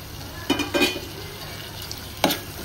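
Tomatoes tipped into softened frying onions in a pan, a low steady sizzle broken by a few short scraping stirs, close and fairly quiet with no talking.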